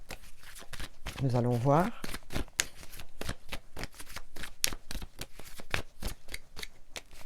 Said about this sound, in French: Je vais tirer 3 petites cartes pour le relationnel, en général.